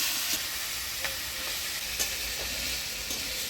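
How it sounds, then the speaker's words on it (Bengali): A steady, soft sizzle of potatoes with green chillies, turmeric and salt frying in a pan, with occasional light clicks of stirring. "আলুটা ভাজা ভাজা করে নেব।"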